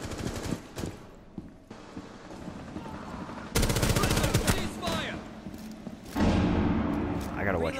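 Gunfire in the video game Rainbow Six Siege during a Terrorist Hunt mission: sharp single shots, then rapid automatic bursts and a later volley. Players talk over the shooting.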